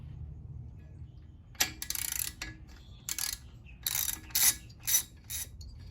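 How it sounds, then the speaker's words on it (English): Ratchet wrench loosening the spark plug and cylinder head bolts on a Yamaha PW50 engine, heard as several short bursts of rapid clicking spread over a few seconds, close and fairly loud with quiet gaps between. "So the next step to do is remove the spark plug and the cylinder head."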